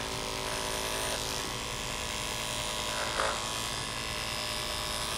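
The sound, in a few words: electric clippers trimming a schnauzer's coat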